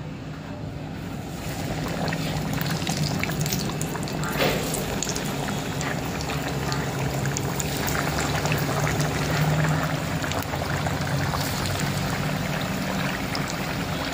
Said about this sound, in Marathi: तेल तापलेलं आहे इथे। आपण आता तळून घेऊया।